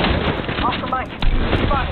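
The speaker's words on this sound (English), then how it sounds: "Launching me knuckle cluster. Firing a frag." Knuckle cluster launch and frag grenade fire in a shooter video game: loud, dense bursts of gunfire and explosive blasts with a sharp crack near the middle, mixed under game chatter and voice.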